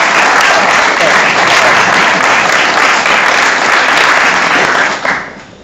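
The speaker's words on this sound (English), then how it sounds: "help me give a rounding applause to Rick DiRico" An audience at a startup event gives a guest speaker a loud, sustained round of applause, dense and even, that fades out quickly at the end.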